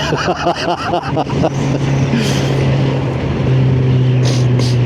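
Motorcycle ridden at speed on the road, its engine a steady loud drone with wind rush, rising in pitch and holding a sustained note, with no other sounds standing out.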